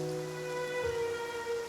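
Steady rain falls in the Genshin Impact video game, a soft continuous hiss with faint game music tones held underneath, no voices.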